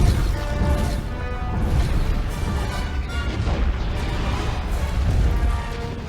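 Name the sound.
film explosion in Star Wars: The Rise of Skywalker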